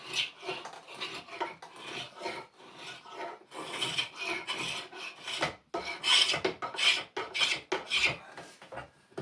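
Hand-tool smoothing cut across wood during chair making, an uneven run of close rasping, scraping strokes with short pauses, fairly faint and without talk.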